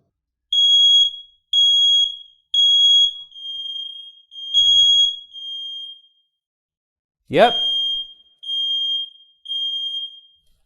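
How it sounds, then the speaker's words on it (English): A smoke alarm test button sets off loud beeping in a steady series of high-pitched electronic tones, with a brief burst of handling noise partway through. "Just press the test button and verify that this one goes off"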